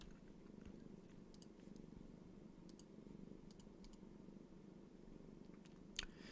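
A cat purrs softly and steadily close by in a quiet room, with scattered light keyboard clicks over the low, even rumble.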